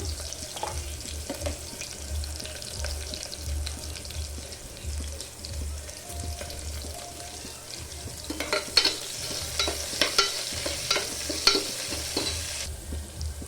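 Sliced onions fry and sizzle steadily in a pan for goat leg curry, with occasional stirring scrapes and a brighter burst of crackle toward the end, close and continuous with no talk.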